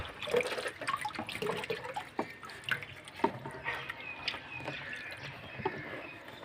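Water trickles and splashes unevenly into an aquarium tank, with scattered drips and small gurgles, fairly quiet and close.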